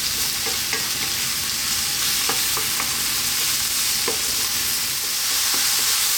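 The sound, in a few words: stir-frying mushrooms in a pan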